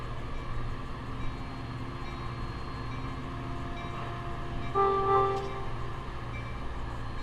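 A train with two double-decker coaches idles and rumbles steadily nearby, about to depart, with a brief horn-like tone sounding partway through over the low mechanical drone.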